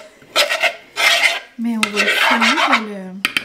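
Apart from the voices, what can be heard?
whisking dalgona coffee by hand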